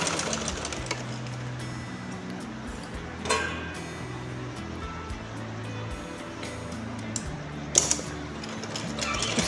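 A sewing machine stitches a shoulder seam in a steady run of rapid needle clatter and a low motor hum, close and continuous, with a few sharper knocks from handling the fabric.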